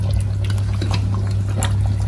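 Chopped tomatoes go into a pot of cooking mutton karahi, giving a steady wet sizzle and bubbling over a constant low hum, close and fairly loud with no talking.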